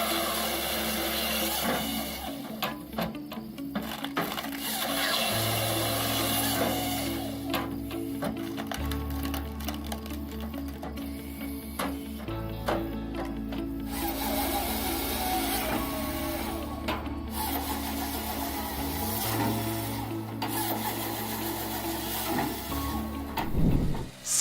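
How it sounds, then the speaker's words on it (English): Harnage FP160 firewood processing machine cutting and splitting logs up to 12 inches across, a steady mechanical drone with shifting low motor tones and repeated clunks and whirs over a long stretch, no talk. "the Harnage FP160 firewood processing machine is capable of processing logs up to 12 inches in diameter"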